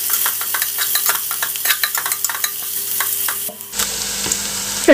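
Chopped shallots, garlic and ginger sizzle and fry in a pan while a utensil stirs them, with rhythmic scraping taps over a constant hiss, then a brief pause and a shift to a softer sizzle near the end.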